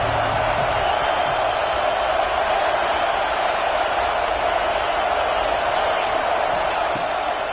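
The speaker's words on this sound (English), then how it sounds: "This crowd ready to make its presence known." Steady stadium crowd roar from the NCAA football video game, a dense continuous wash of cheering noise that holds at an even, fairly loud level throughout with no talk over it.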